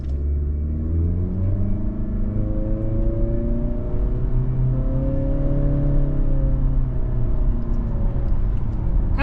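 A 2025 Acura ADX SUV with a 1.5-litre turbo engine revs up steadily as it pulls away from a stop, a smooth rising drone with rumbling road noise underneath.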